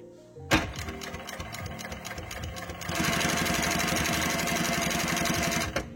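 A Sewmaq SW-2220 double needle feed sewing machine stitches a piece of fabric, starting with rapid mechanical ticking and then settling into a loud, steady, fast whirring run until it stops.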